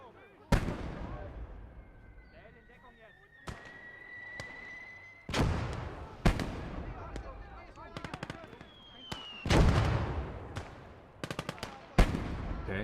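Mortar fire and other battlefield explosions in the video game Gates of Hell: Ostfront, Finland campaign, with a series of sharp loud booms and cracks separated by brief pauses, plus distant whistling shells and bursts of rapid gunfire.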